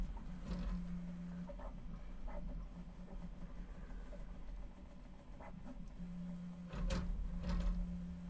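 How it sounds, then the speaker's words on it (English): A home printer acting up while running, with a faint steady mechanical hum and a series of soft clicks and clunks, quiet and without talk. "printer is acting up."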